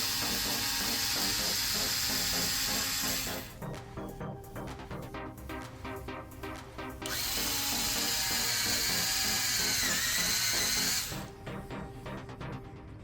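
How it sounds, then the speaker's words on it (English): A power drill spins a deburring bit on a custom PC build part in two sustained bursts of high whirring, each lasting several seconds, separated by quieter clicking and handling noise. "you put it in your drill, and then you stick this guy in like that, and you just turn your drill on"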